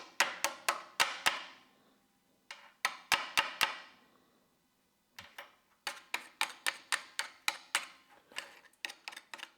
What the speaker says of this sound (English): It's normal to have a little bit of slag on this edges, chips right off.